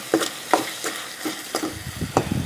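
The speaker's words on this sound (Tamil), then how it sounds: "ஸோ நல்லா பெரட்டி விட்டுக்குங்க" Chicken gravy is stirred in a pan, with a spoon scraping in a steady rhythm of about five strokes over a soft background sizzle. The sound is close and there is no talking.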